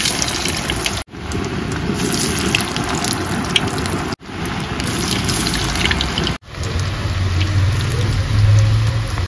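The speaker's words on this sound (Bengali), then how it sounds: "আলুগুলো আমি ছেড়ে দেবো তেলে।" Potato sticks for Bengali-style French fries hit hot oil and fry with a continuous loud hiss and crackle that runs throughout, broken by a few brief cuts.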